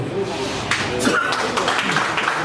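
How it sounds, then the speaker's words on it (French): A crowd claps loudly at a civil society gathering in the DRC, a dense steady applause with voices calling out over it throughout. "on applaudit très fort"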